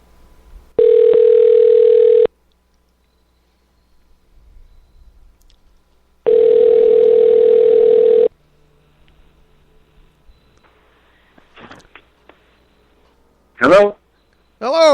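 Telephone line tone during an outgoing call to a radio show listener: two long steady electronic tones separated by a silent gap, followed by faint clicks and brief line noises.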